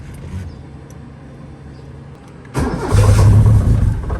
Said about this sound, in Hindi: अब जरा बिस्मिल्लाह पढ़ के गाड़ी को स्टार्ट करते हैं।